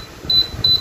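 Air fryer oven control panel beeping as buttons are pressed, two short, clear, high beeps over faint background hum.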